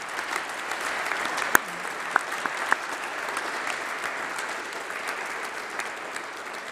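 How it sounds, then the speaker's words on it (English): Graduates and guests clapping at a December university winter congregation, an even, sustained round of applause from a large crowd, with a few sharp nearby claps popping out above the steady wash. "Give yourselves a round of applause."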